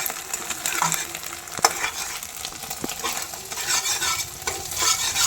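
Green chillies frying in hot oil while being stirred, a continuous close sizzle with occasional spoon scrapes and taps against the pan, loud and steady throughout.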